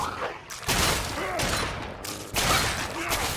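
Gunfire in Fallout 3, with raiders firing during a fight on PS3: loud, dense volleys in two heavy bursts separated by a brief lull, close and booming.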